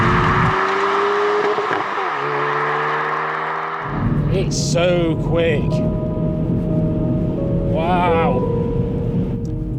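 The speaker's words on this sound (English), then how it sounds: "One of the features that I really like about this car is automatic rev matching. It makes gear changing seamless and much faster" A Hyundai i30 N engine under way, revving and dropping through rev-matched gear changes, a loud droning note that cuts off, then rises again with quick rising blips, under wind noise and a brief exclaimed remark.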